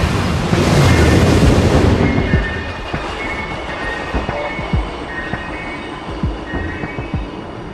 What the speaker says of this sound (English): We've developed the maglev with a top speed of 500 kilometers an hour for commercial use.